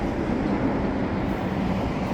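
A freight train rumbles past close by, a loud, dense and continuous roar of wheels and cars with no breaks or voices.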